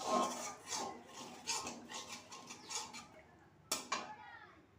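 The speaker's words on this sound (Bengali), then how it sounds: "মশলা থেকে তেলটা ছেড়ে আসা অবধি ততক্ষণই কষবো যতক্ষণ না তেলটা ছেড়ে আসে মশলা থেকে" Spice paste being stirred and fried in a pan with salt, a spoon scraping the pan in short uneven strokes, close and fairly quiet, with a sharper knock near the end.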